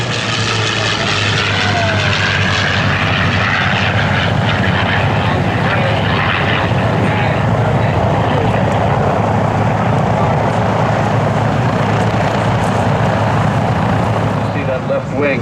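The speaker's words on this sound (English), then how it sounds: "Here's a high-speed pass and a photo pass by Dan Dameo and the Warhawk." A P-40 Warhawk propeller fighter makes a high-speed pass at a World War II airshow, its engine roaring loud and sustained throughout, with an announcer talking over it.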